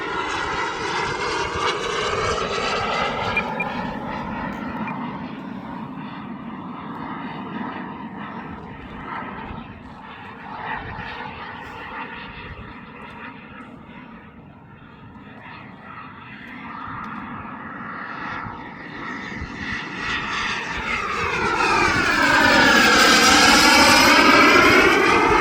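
A Hangar 9 Hawk RC airplane's engine drones continuously in flight, its pitch rising and falling as the plane passes overhead, fading somewhat in the middle and swelling loud and close near the end.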